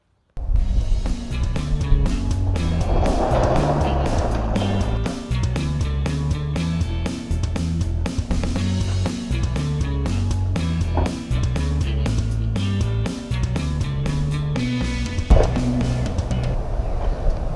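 An old Kawasaki motorcycle runs steadily close by for the whole stretch, its engine holding a continuous rhythmic drone with small shifts in throttle and a brief surge near the end.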